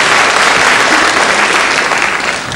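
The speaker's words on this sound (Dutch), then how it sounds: "Bij andere praatprogramma's wordt daarvoor geklapt altijd." Studio audience applause on a 1990 Dutch television talk show, a steady loud wash of clapping from many hands that fades slightly at the end.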